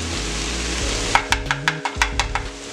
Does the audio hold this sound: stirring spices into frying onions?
yes